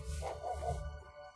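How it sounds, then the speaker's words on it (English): A dog barks at a passing car on a bumpy, potholed road, a short burst of close barking heard from inside the vehicle over steady engine and road rumble. "he's like barking at the car."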